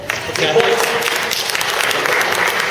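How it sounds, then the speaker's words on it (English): An audience at a regional business meeting breaks into applause, a short, fairly loud burst of many hands clapping with a voice briefly audible over it at the start. "So, yeah, you can clap for that"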